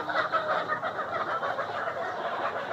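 Layer hens clucking together in a poultry shed, a dense, steady chorus of many birds filling the space with no pauses.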